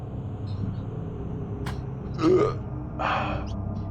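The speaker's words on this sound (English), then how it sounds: "I can't stop burping." A person lets out a short, close burp in the middle of a quiet room, followed a moment later by a softer throaty exhale, against a low steady background hum.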